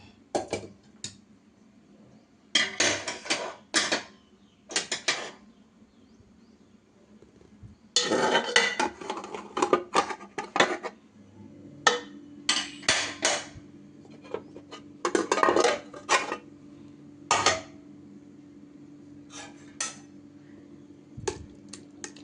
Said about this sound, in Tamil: இப்போ பார்த்திங்கன்னா குக்கர் எடுத்துக்கலாம்.